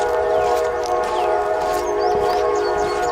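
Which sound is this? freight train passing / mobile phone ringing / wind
freight train passing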